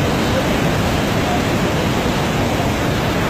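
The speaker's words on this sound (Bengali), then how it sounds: "এই পানিগুলো গিয়ে নিচে পড়ছে" Water at Iguazu Falls on the Brazil–Argentina border crashes down in a dense, continuous roar that stays even and loud throughout, with no voices.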